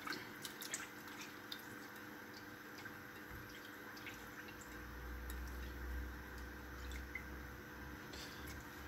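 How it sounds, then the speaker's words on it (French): Peeled fresh ginger rinsed under running tap water, a steady soft trickle with faint drips and a low rumble of flow continuing throughout, close and fairly quiet. "Je rince le tout."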